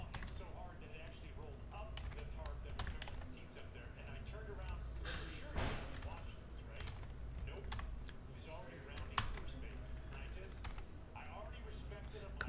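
A computer keyboard is typed on quickly and steadily for about twelve seconds, close and fairly loud, with a voice talking underneath.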